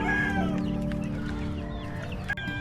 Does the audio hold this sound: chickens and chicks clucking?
yes